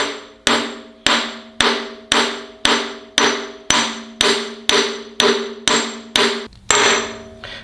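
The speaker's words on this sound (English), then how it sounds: "So I use a piece of aluminum, just a piece of aluminum that's softer, and make sure it's square. Just start to tap it on." An aluminum piece is tapped against the harmonic damper of a 440 MOPAR 512 stroker engine, giving a dozen sharp, evenly spaced metallic hammer strikes with ringing decay, close and loud, no talking.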